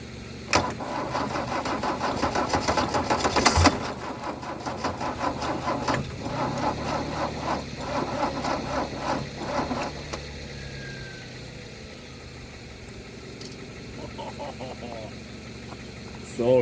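An old Mercedes W123 300D diesel, parked for twenty years, cranks repeatedly with a loud grinding starter rhythm, then catches and settles into a rough idle that fades as voices speak nearby.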